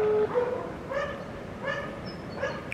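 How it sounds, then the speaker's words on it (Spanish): A small dog on a rooftop yips repeatedly from a distance, with four short, high barks at roughly even intervals over a faint background hum. "Hay un perrito en esa azotea"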